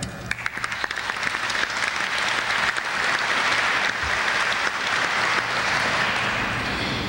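A festival audience breaks into sustained applause, a dense wash of many hands clapping. It starts with a few scattered claps and swells to a steady, full roar that continues throughout.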